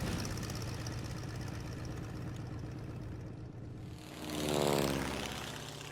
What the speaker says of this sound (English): Look at those planes, bro.